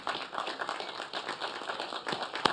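Crowd of graduates applauding at a Curry College commencement ceremony, a steady wash of many hands clapping with a few sharper claps standing out, moderately distant and continuous.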